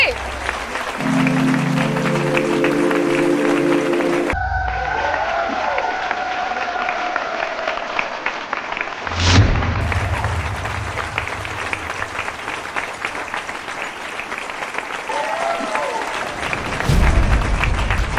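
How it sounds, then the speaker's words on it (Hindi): A studio audience at a Hindi television show claps in a sustained, dense round of applause after a short musical sting, with a voice briefly rising over the crowd noise. "अरे जोरदार तालियां तो बजाइए।"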